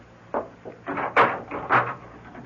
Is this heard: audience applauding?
no